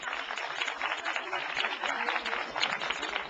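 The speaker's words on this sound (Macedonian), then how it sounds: "посебен аплауз за нив" Audience applause at a televised show, dense steady clapping from a crowd sustained throughout without a break.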